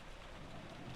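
Steady rain falls in the Umineko visual novel, a dense even hiss of drops with soft low rumbles underneath, constant and alone with no voices.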